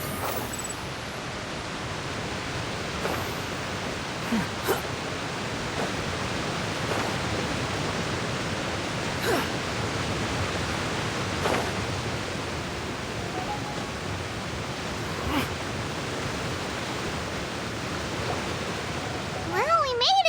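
A powerful waterfall in the Genshin Impact video game roars as a steady, dense rush of water, loud and unbroken for the whole stretch, with faint clicks now and then.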